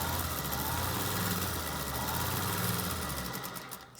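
A sewing machine hums in a steady, fast stitching run along the edge of a fabric face mask, close and continuous before winding down and stopping near the end.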